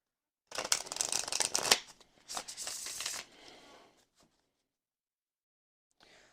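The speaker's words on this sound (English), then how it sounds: "So now let's get some tarot cards." Tarot cards shuffled by hand, two brisk riffling bursts of flapping card edges up close, followed by a softer sliding shuffle and a few light taps in an otherwise quiet room.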